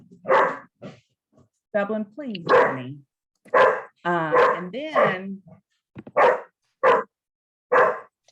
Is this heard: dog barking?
yes